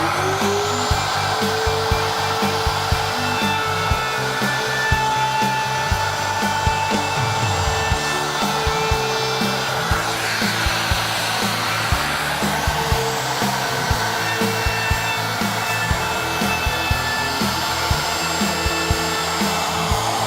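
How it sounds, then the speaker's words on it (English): A router fitted with a 1/8 inch round-over bit shapes the edges of wooden cornhole boards, a loud continuous motor whine with rhythmic cutting ticks and slight pitch shifts as it moves along the wood. "my 1/8 inch round over bit and just hit all of these surfaces to make it nice and smooth"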